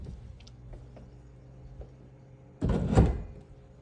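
Double pantry doors in a house kitchen open with a sudden loud wooden clatter and rattle after a few faint ticks and knocks in a quiet room.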